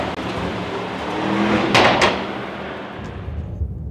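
A 2025 Mercedes in sport mode gives a loud, steady engine roar with a deep hum. The sound swells through the middle, where two sharp bright bursts cut in, then eases off toward the end.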